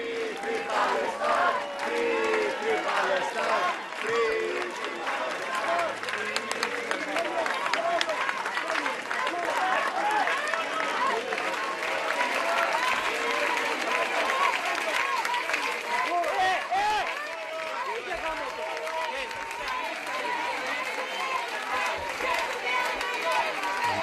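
A large crowd in Athens, some waving Palestinian flags, gives Greta Thunberg a rapturous welcome, with steady dense clapping and cheering voices that stay loud and continuous throughout, crowd noise all around.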